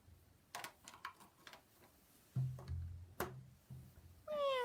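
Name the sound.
cat meowing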